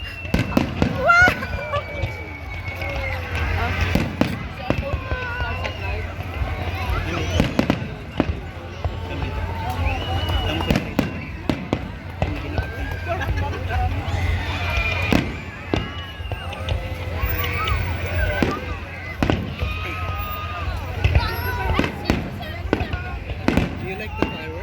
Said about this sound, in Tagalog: Wow, fireworks at the Corniche.